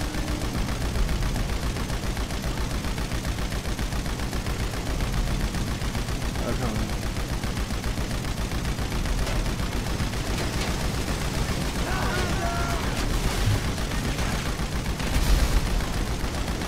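Sustained gunfire in GTA 5 Online during a cargo-bomb takedown mission: a dense, loud, continuous barrage of shots and game action running the whole time, with speech mixed in.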